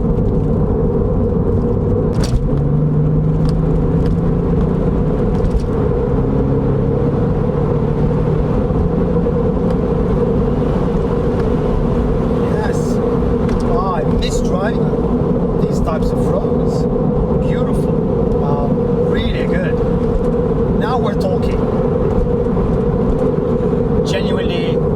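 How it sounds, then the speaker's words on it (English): A Porsche 996 Carrera 4S runs on the road after years parked, its engine and road noise a steady loud drone throughout while someone talks over it. "And driving the C4S, you almost tend to forget how good these cars are."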